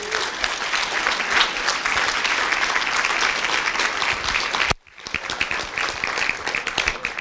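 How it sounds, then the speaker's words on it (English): A conference audience gives a round of applause: loud, steady, close clapping that briefly drops out near the end and then picks up again just as strongly. "Give her a round of applause."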